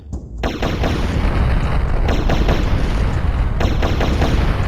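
Weapon fire in the Turok: Dinosaur Hunter video game, loud, dense rapid blasts and booming impacts filling the whole stretch after a brief opening gap, with no speech.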